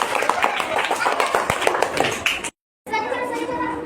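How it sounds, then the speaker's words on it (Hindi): Children in a classroom clap their hands in a steady burst of many overlapping claps, with voices mixed in, then a brief cut of silence before more applause and chatter resume. "इसके लिए ताली लगा दीजिए"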